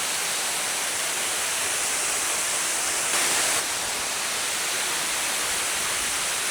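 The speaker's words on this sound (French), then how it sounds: "ça fait tellement du bien à côté de la cascade là, c'est frais" Waterfall on a mountain hike in Bulgaria, a dense, steady roar of falling water heard up close and loud, unbroken for the whole stretch.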